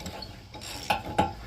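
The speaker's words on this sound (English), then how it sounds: "Oh, I heard ratcheting." An old socket welded to a cheap spark plug socket clicks as a ratchet, giving a couple of short sharp clicks near the end after faint scraping and rubbing.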